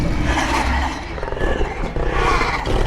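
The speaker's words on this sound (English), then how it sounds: "It's just wolf sounds and black." Low, growling wolf roars from the video game The Wolf Among Us rumble loudly and continuously for a few seconds, with no music or talking over them.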